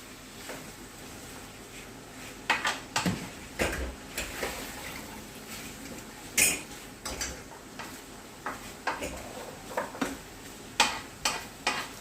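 Pork simmering in a pot with its fat rendering out bubbles and sizzles quietly, with occasional clinks and taps of utensils against the pan.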